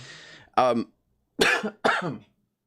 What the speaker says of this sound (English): I still have this nagging cough.